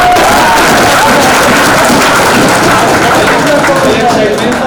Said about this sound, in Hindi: आप ताली से इन लोग का स्वागत करें।